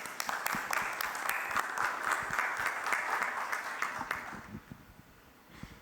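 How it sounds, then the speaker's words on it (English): Audience applause at a panel discussion, sustained clapping from a seated crowd for several seconds, steady and fairly loud, then thinning out and fading near the end. "That's a clap for you as well."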